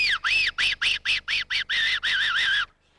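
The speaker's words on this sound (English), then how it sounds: "good hunting with the original fox whistle" A fox whistle blown from the throat gives a series of short, rising-and-falling squealing calls, about eight quick bursts and then a longer wavering blast, loud and close, with no talk.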